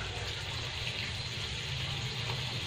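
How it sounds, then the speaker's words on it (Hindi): Water poured steadily from a glass into a pan to cook Maggi noodles, a continuous splashing gush that lasts throughout at close range with no talk. "ये गिलास हम पानी डालेंगे"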